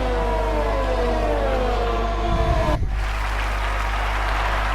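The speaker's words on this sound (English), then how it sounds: "Just listen to the Japanese crowd. They're absolutely loving it." The crowd at the Japanese Grand Prix in F1 20 keeps up a steady roar, while a car's engine whine glides downward over it before cutting off midway.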